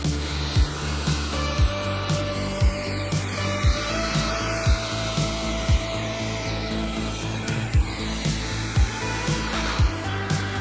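A hot air rework station blows at full airflow while repairing a faulty A500 Mini, giving a loud, steady close-up rushing hiss with regular soft clicks and thumps underneath.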